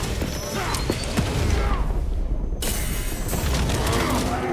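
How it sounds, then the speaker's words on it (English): A flashbang goes off amid battle noise in the game Space Marine 2: dense booms and clatter, then a sudden muffled near-silence before the loud din bursts back in, with voices mixed in. "The flashbang guy got me good."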